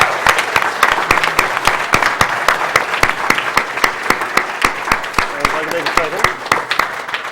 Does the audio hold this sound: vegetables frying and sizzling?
no